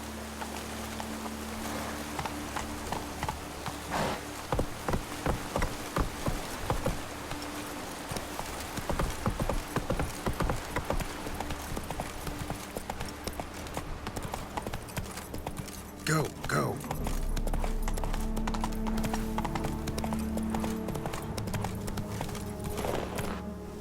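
Roach the horse's hooves clip-clop steadily on the ground in rain in The Witcher 3, a rhythmic trot over a soft rain bed, and a voice speaks over it.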